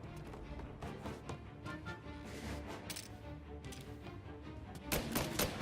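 Video-game gunfire from Mafia Definitive Edition: a rapid scatter of sharp shots and crackling impacts over a steady noisy bed, fairly quiet overall, with a louder cluster of shots near the end and no talking.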